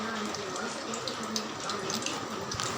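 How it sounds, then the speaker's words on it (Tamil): Onion pakoda fritters sizzle and bubble steadily in hot oil over a medium flame, a continuous fizzing hiss close by. "இப்போ இதை வந்து மீடியம் ஃப்ளேம்லேயே வச்சுட்டு சிம்லேயே வச்சுட்டு நீங்கள் வந்துட்டு பொரிச்சு எடுத்துக்கலாம்."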